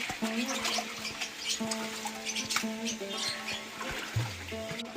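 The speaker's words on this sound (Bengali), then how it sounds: "মা এদিকে মাংস ধুচ্ছে" Tap water trickles and splashes unevenly as store-bought meat is washed by hand, with faint background noises mixed in.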